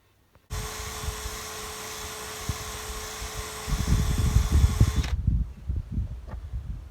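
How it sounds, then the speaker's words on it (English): A flap wheel sanding drum polishing metal parts for an electric boat motor bed gives a steady high-pitched whine that starts abruptly, holds for several seconds with rumbling handling noise beneath, then cuts off. "So I'm using a flap wheel sanding drum, which is it's a bit tedious, but it's not too arduous."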